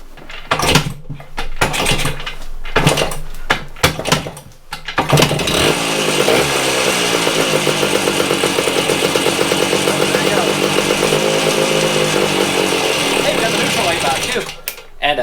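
A Yamaha Enduro 125 dirt bike with a freshly rebuilt carburetor cranks and fires, then runs with a loud, steady two-stroke putter for several seconds before dying as it runs out of fuel.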